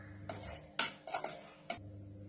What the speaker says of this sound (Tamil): இது மாதிரி பாருங்க, அடியில பிடிக்காம நல்லா கலந்து விடணும்.